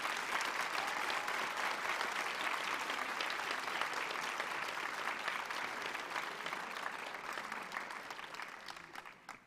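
A graduation convocation audience applauds steadily, with a broad wash of clapping from many hands that holds evenly, then fades out in the last second.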